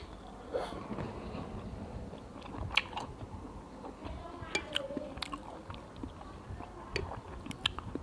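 Someone eats bamboo shoot curry with pork and rice, with soft, close chewing and crunchy bites repeating steadily over quiet background noise.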